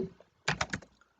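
A handful of quick keystrokes on a computer keyboard while entering Arduino serial monitor code, a short cluster of four or five crisp clicks in a quiet room.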